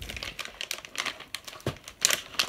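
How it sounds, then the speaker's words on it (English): A crinkly plastic packet being opened up close, a continuous rustling and crackling with sharper crackles as the wrapper is pulled apart. "I can open the packet, that is."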